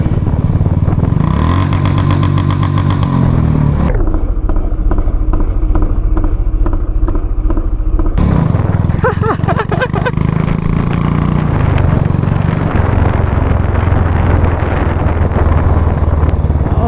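A 2019 Royal Enfield Classic 350 runs with a loud, close, thumping single-cylinder exhaust, steady idling throbs shifting through revs with sharp popping crackles in between, the engine sound continuous throughout.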